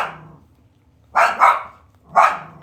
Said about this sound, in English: Ignore my dogs.